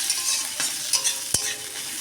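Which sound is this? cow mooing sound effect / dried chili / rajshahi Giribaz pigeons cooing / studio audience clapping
dried chili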